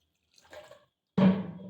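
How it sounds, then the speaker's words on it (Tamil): Water poured into a cooking pot over vegetables seasoned with mutton masala, oil and salt for a home-style dalcha, a short faint rustle followed by a clear, close splashing pour that trails off without any talk. "காய் வேகிற அளவுக்கு தண்ணி"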